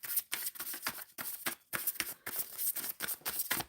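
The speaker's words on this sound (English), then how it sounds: "So I am shuffling for the overall energy for the collective." Tarot cards being shuffled by hand, close and crisp, in quick repeated riffling bursts with brief pauses between them, no talking.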